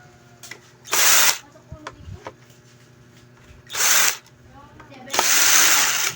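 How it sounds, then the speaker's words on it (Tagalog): A power drill backs screws out of a JBL active speaker cabinet, giving three loud whirring bursts of about a second each with faint clicks and handling noises between them. "So ngayon tatanggalin natin itong mga tornilyo."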